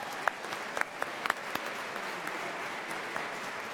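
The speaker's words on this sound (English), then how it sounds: "Let's give them all a round of applause" Audience applause at a UCP Calgary leadership debate, a steady, fairly faint wash of many hands clapping with a few sharper individual claps, heard at a distance and without talk.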